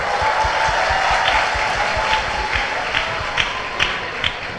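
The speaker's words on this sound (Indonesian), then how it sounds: "Kasih aplaus dulu" A seminar audience bursts into loud, sustained applause, a dense wash of many hands clapping that fills the room and continues steadily with a few louder claps poking through.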